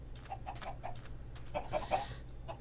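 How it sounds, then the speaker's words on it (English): Chickens cluck faintly in Minecraft, a few soft, short clucks scattered over a quiet low background hum, growing slightly busier toward the end. "We've got chickens over here."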